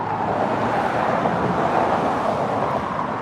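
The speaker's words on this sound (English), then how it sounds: "hope these cars ain't too loud." Passing cars on a roadway make a loud, continuous rushing traffic roar with some wind buffeting the microphone, no voices on top.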